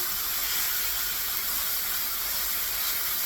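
Turkey breakfast hash pressed flat in a hot pan gives off a dense, constant sizzling hiss, loud and close and unchanging throughout, with no talking.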